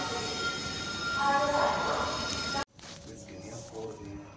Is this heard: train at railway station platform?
yes